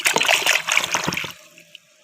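Water splashes and splatters as a toy shark is washed, a busy, close burst of liquid that quickly thins out and fades to near silence.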